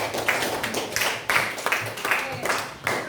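A small group claps for the fourth team at the end of a school presentation, a few scattered, uneven bursts of hands with voices talking between them.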